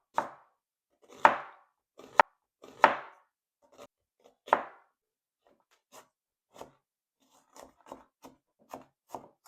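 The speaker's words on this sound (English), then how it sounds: "Now we're going to cut up our vegetables for our burger meat" A knife chops half a white onion and half a purple onion on a cutting board, with sharp, irregular knocks that start strong and spaced, then turn lighter and quicker, close and without voices.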